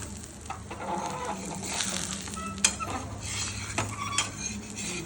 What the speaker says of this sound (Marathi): झाकण काढून घेऊया